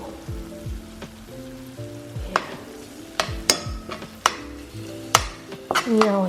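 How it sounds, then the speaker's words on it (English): Pork belly sisig sizzles in a pan while a spoon stirs it, with scraping strokes and several sharp clinks against the metal over a continuous crackle, close and fairly loud. "You know, and mix it around like that."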